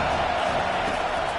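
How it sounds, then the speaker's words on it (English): A football stadium crowd on third down makes a continuous, loud, close roar that holds steady for the whole moment. "Decibels rising as the crowd gets behind this defense on third down."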